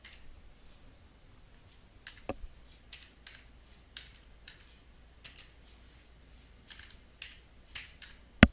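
Typing on a computer keyboard: irregular clusters of soft key clicks close by over several seconds, with a sharper tap near the end and no talking.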